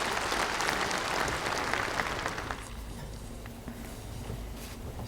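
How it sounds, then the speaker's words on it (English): A hall audience at a CPPCC session claps together to approve a draft by acclamation, steady dense applause that eases slightly partway through and holds on to the end. "please clap your hands to pass it."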